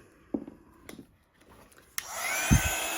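A heat tool starts up partway through, blowing a steady broadband whoosh over embossing powder on a Christmas card after a few faint scraping handling sounds, loud and close until the end.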